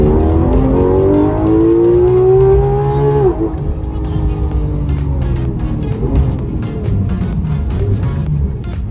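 A 500 hp Porsche 911 GT3 RS (991) with its PDK gearbox in sport mode accelerates hard, the engine note climbing steadily before a sharp drop at a gearshift and then pulling up again, loud and close.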